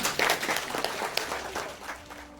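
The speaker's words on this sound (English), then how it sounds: "give her a round of applause" Audience at a healing event in Bracknell applauding, a short burst of scattered clapping that thins and fades over a couple of seconds.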